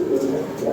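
A Red Lahori pigeon gives a brief, soft, low coo up close.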